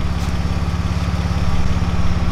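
A BMW engine fitted with a homemade exhaust idles close by, a steady, loud, throbbing rumble with even low pulses and no voices.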